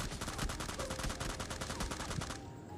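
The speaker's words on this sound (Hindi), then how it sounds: "तभी मेरे को यहाँ पर फायरिंग का साउंड आता है और मैं यहाँ पे रुक जाता हूँ" Gunfire in the battle royale video game PUBG Lite: a steady, rapid burst of automatic shots fires continuously for more than two seconds, then cuts off abruptly, leaving only quieter game ambience.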